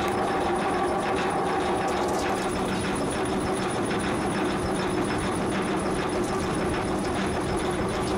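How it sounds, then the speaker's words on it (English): A TC1000 Cedar Rapids cone crusher driven by a 230 horsepower motor spins as it breaks rocks, giving a steady, loud mechanical roar and rattle that holds constant throughout with no pauses. "This crusher breaks rocks by spinning. And the system is run with a 230 horsepower motor."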